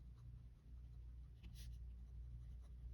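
A Pilot Metropolitan fountain pen with a medium nib writes on paper in a faint, close, soft scratching stroke. The sound is barely louder than a low background hum.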